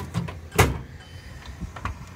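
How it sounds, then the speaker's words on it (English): A toolbox drawer slides open inside a network cabling work van, making a short scraping rattle and one loud central clunk, close and brief, with no talking. "This is one of the drawers I go to the most."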